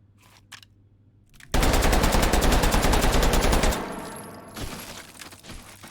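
A machine pistol in a stealth shooter video game fires a sustained rapid burst of close, loud gunfire for about two seconds after brief faint clicks, then the shots trail off into quieter echoing reports.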